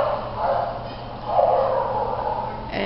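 Australian cattle dog mix at a shelter giving a few loud, close woofs and yips in quick succession, with a whimpering edge between them.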